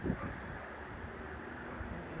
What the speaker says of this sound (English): It's still windy though.